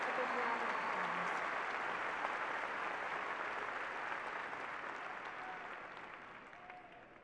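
Applause from the audience at a 2018 high school graduation ceremony, a dense, even wash of clapping from a large crowd that holds steady and then slowly fades, heard alone at a moderate distance.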